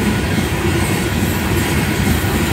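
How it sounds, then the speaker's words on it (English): Union Pacific freight manifest train passing a road crossing, a loud, steady roar of rolling wagons with rhythmic wheel clatter, close by and continuous. "the end of the train is about to pass here"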